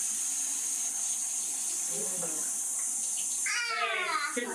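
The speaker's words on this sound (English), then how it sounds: "Turbo, turn that water down a little bit." Tap water runs steadily into a bath at a family home, a continuous hiss throughout with a voice and babbling briefly over it near the end.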